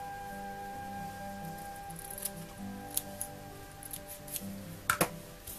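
Scissors snip through lace being trimmed for a handmade card, giving a few soft, close clicks and a sharper double cut near the end over a quiet background hum.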